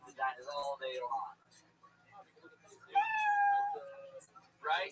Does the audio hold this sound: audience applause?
no